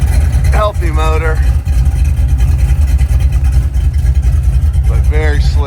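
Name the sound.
1970 Camaro restomod engine revving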